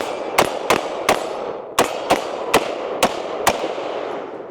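A $349 rifle fires eight sharp shots in quick irregular succession, each a loud crack with a short decaying tail, heard alone with no talking.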